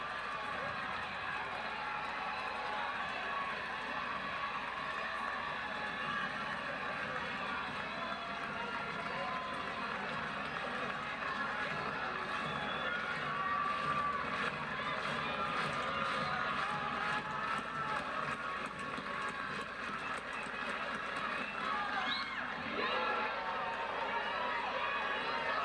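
A softball stadium crowd at a Tennessee vs Alabama women's game roars steadily with fans on their feet at a two-strike count, a dense, continuous wash of cheering and noise running under a commentator's voice.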